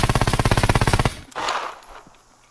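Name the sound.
Mk18 rifle full-auto hip fire in Scum video game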